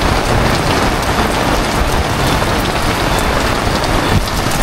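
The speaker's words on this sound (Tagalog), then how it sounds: "Maliligo tayo ng ulan ngayon" Heavy rain pours down steadily in a dense, continuous hiss on a rural campsite with mango trees, loud and close with no pauses.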